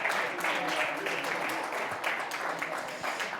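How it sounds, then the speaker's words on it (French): Audience applause at the closing ceremony of the 15th États de la France event, honouring the TV New Cap technical team: a steady, fairly faint wash of clapping throughout, without a clear peak. "Merci à vous, applaudissements."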